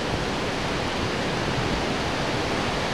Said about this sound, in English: About to be some extreme weather. Brace for the smooth pace. Hurricane approaching.